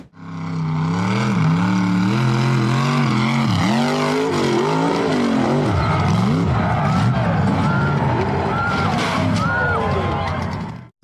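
A red lifted pickup truck revs hard on a dirt off-road hill, its loud engine wailing and surging up and down in pitch as it accelerates toward a jump and launches.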